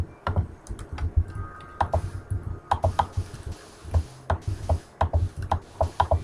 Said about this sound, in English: let's type sand